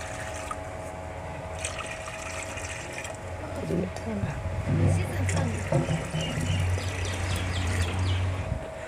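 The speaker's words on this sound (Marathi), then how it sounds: "आता आपल्याला माठामध्ये पाणी वाटायचं आहे दोन तांबे." Water pours into a clay pot set on a wood-fired stove with a gurgling, filling splash midway, while a person talks over a faint background hum.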